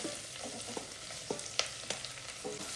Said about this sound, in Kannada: 1-2 ನಿಮಿಷ ಎಣ್ಣೆಯಲ್ಲಿ ಈ ಥರ ಬಾಡಿಸ್ಕೊಳ್ಳಿ.